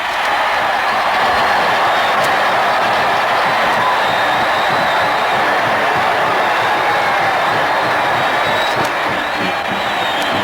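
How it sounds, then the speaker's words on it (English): A packed football stadium crowd of some 82,500 roars after a successful extra-point kick at the 1954 Ohio State–Michigan game, a steady, loud, sustained cheer filling the whole clip with no break. "Listen to that crowd."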